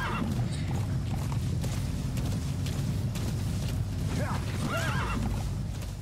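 A horse in Metal Gear Solid V neighs and whinnies over steady clip-clopping hooves, with mechanical game sounds underneath and a faint voice in the mix.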